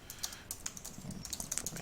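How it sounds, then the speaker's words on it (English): Fingers tap out text on a computer keyboard while a Google Sites page is being edited, a quick, irregular run of close, light key clicks with no talking. "so we can start typing things."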